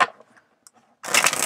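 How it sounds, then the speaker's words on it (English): Tarot cards are shuffled by hand, with a short riffle at the start, a few faint taps, then a dense, crisp burst of papery shuffling up close that carries through the end. "I'm going to shuffle a little bit on camera for you guys."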